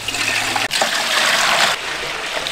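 Water pours steadily into a cooking pot, six litres for five packets of goat-leg soup mix. A continuous, close splashing rush breaks off for a moment partway through, then resumes.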